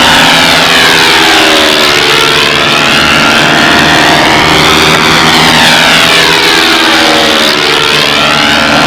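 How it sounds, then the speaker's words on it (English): Four-stroke engine of a control line scale model airplane at a national championship contest, droning continuously and loudly with a steady buzzing tone that rises and falls in pitch as the plane circles, with no talking. "It sounds like 4-strokes. Maybe, God forbid, maybe it is 4-strokes. Very realistic sound."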